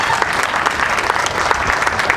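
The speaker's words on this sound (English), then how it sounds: "please give her a round of applause" A dense, loud burst of audience applause for an honoree, Signe Linville, at an organization's Christmas awards gathering, with many hands clapping continuously and evenly throughout and no voices standing out.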